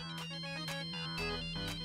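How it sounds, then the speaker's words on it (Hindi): A phone rings in a home scene from a Hindi TV sitcom, with repeated electronic ringtone pulses at a moderate, steady level and no voices over them. "राज का फोन। हाँ उठा उठा उठा"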